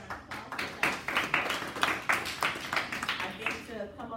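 A workshop audience claps in a loose, uneven run of individual hand claps, moderately close, mixed with people talking throughout.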